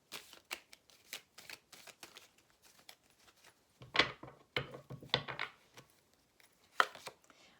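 Tarot cards are shuffled by hand in quick, crisp riffles and taps, soft and close, coming in short irregular bursts with a few louder flurries partway through.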